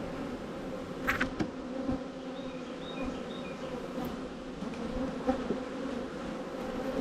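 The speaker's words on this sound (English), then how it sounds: "Yeah, I got some bees over there." Honey bees buzz steadily around a working beehive outdoors, a continuous low drone with individual bees passing close now and then.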